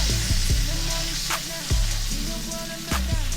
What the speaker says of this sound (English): Do another flip of the burgers.